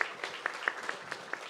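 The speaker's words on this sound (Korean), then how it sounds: "박수 한번 쳐주세요." A church congregation clapping during a Christmas Sunday service, with a steady rhythmic beat of claps about every quarter second, moderately soft and somewhat distant.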